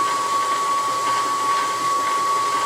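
A Covington 30-inch rock saw runs after a pulley repair, giving a steady, loud machine whir with a fixed high tone above it and no pauses. No voices are present.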